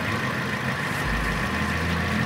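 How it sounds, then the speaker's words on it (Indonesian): A 2015 Toyota Avanza G engine idles steadily and close by, a continuous low, even hum with no misfire or stumble across the short stretch. "Nggak ada pincang juga kalau kita lihat dari getaran dan nada mesinnya, dia masih oke semua."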